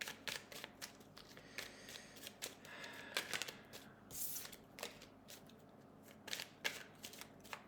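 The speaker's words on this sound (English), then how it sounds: "let's give this a bit of a shuffle" Tarot cards are shuffled by hand in a run of crisp, riffling bursts with short pauses between them, close and fairly quiet.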